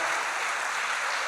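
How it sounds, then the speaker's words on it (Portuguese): Church congregation applauding during a worship service, a brief burst of steady, dense clapping from many hands filling the room. "levante suas mãos e aplauda bem forte o nome do Senhor"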